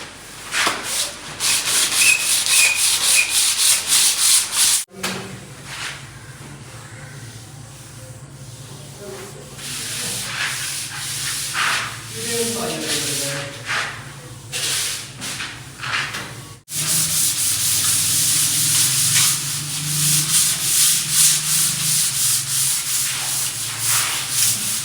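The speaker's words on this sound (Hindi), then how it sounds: "पेंटर्स भाई तो लगे हुए हैं जी, अपने रगड़ाई शकड़ाई का काम कर रहे हैं जी।" Painters sanding the walls of a room by hand, producing a continuous rough scraping and rubbing with rhythmic strokes that carry on throughout, interrupted by brief pauses and faint background voices.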